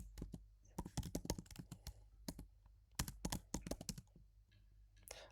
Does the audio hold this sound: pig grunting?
no